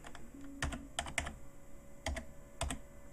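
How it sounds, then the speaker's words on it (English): Someone types a login on a desktop computer keyboard, producing sparse clusters of close clicking keystrokes in uneven pairs over a low steady hum, with no talking. "let me go ahead and punch in the login"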